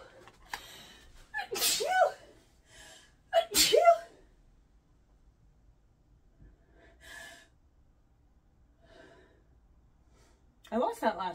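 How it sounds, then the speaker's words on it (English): Two sharp human sneezes in quick succession, close and loud, set among quiet breaths, gasps and sniffs, with a short burst of talk at the end. "Oh, I'm gonna sneeze, guys."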